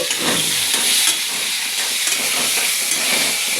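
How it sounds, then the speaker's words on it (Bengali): Frying in mustard oil, a bright continuous hiss and sizzle close to the pan, with small crackles and stirring and no talk. "ভাজা করছি আমি"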